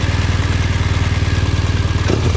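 A BMW motorcycle engine runs with a throaty, rhythmic pulsing idle that is close and loud and holds steady throughout, with a brief rattle near the end.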